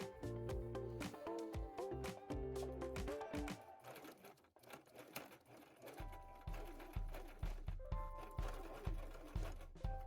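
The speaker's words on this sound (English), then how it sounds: "I'm just going to stitch these together and also to stitch on" A sewing machine stitches bra mockup pieces together, running in rapid rhythmic bursts of mechanical clatter with a brief pause midway, close and clear.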